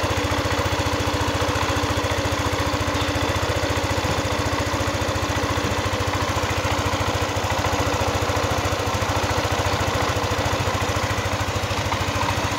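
A Yamaha Nmax scooter engine idles after a top overhaul while its cooling system is bled of air, giving a steady, loud, close, rhythmic chugging that runs unbroken throughout with no speech.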